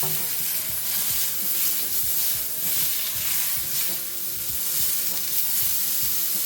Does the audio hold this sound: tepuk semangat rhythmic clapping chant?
no